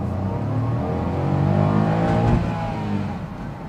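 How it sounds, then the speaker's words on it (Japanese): A Honda S660 with a six-speed manual revs out in first gear on a mountain road, its small engine climbing in a smooth, light whir heard from inside the car, steady and fairly loud with no talk. "今一速だったんですけど、エンジン回してもまだまだ制限速度には届かないと。"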